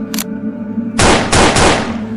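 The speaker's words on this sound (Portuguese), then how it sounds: "Audísio disparou com uma submetralhadora MAB-38 até os 2 corpos pararem de se mover." Bursts of MAB-38 submachine gun fire, loud and close, in a rapid string of shots after a short earlier crack, with echoing reports.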